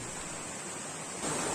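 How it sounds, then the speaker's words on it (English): A small waterfall on a Western Ghats stream produces a steady, dense roar of falling water that fills the scene and swells slightly louder toward the end. "I can hear the loud sound of water. I can see a small waterfall over there."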